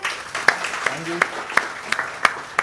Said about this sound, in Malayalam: വലിയ കൈയടി കൊടുത്തേ